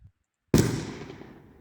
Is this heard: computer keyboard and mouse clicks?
no